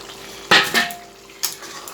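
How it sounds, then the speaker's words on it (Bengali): Fried whole potatoes drop into a pot of mushroom curry in hot water, giving a couple of short clattering splashes and a metallic knock against the pot, close up in an otherwise quiet kitchen. "এই যে আলুগুলোও দিয়ে দিচ্ছি"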